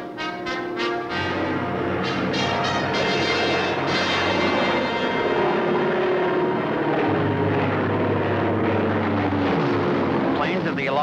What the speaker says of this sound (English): Planes of the Allied Air Force bomb German positions along a narrow front at San Lo